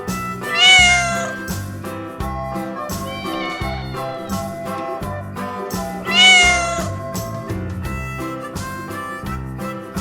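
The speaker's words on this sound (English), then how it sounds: "Cat." A cat meows in two loud, rising cries, one near the start and one past the middle, set over steady upbeat children's music with a regular beat.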